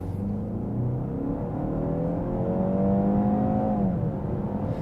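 A 2023 BMW X1 engine revs steadily under acceleration from inside the cabin, its rising drone climbing in pitch, then briefly falling back as it shifts, loud and continuous throughout with no talking.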